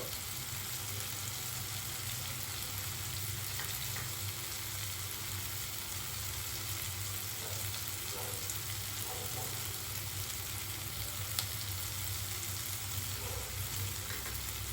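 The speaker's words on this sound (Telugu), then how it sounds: "టొమాటోస్, ఉల్లిపాయ ముక్కలు మంచిగా వేగాయండి." Tomato and onion pieces frying in a pan, a soft continuous sizzle at low level with occasional faint stirring ticks and no voices.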